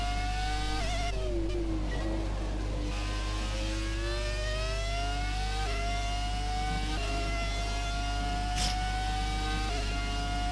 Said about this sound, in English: I really am liking the sound of this car.